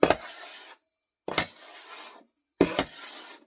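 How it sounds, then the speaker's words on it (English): A bench scraper rounds sourdough bread dough on a work surface in three short, soft scraping strokes with brief pauses between them. "we're going to be using a bench scraper. And all we're going to do is round it."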